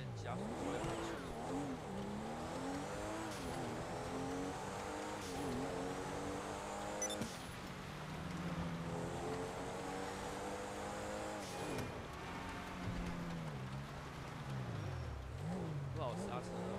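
A Pfister Comet sports car in GTA 5, stock and unupgraded, drives with a steady engine drone that rises and falls through gear changes, with brief tire squeal. Someone talks over it throughout.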